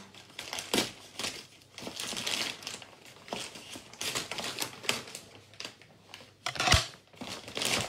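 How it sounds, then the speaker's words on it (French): A parcel is torn open by hand, with bursts of crinkling, crumpling plastic and paper packaging and sharp rustles at irregular intervals, close and moderately loud, without speech. "Voilà l'autre colis. Je vais ouvrir devant vous."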